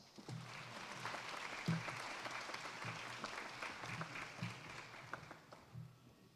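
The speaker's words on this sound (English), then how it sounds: "a big round of applause for the BEd and Sykes" An audience at a university graduation ceremony claps steadily in a continuous round of applause, fairly distant and even, with no voices standing out.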